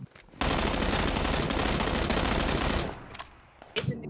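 Sustained burst of gunfire in the video game PUBG, a loud dense rattle lasting about two and a half seconds before cutting off, followed by a few faint scattered sounds.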